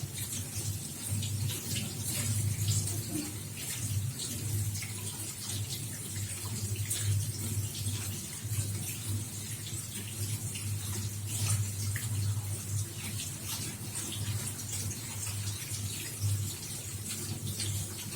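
Tap water runs steadily over greens (keerai) being washed, a continuous splashing flow with a low hum beneath it that lasts about eighteen seconds with no talk.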